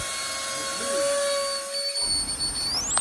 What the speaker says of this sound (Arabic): ده كده صوت الراوترز بعد التشغيل.